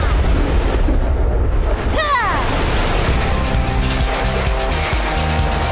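A loud rushing surge of water crashes and swirls, with sweeping whooshes and roaring turbulence from a water-elemental wave attack in the BoBoiBoy cartoon, no voices heard.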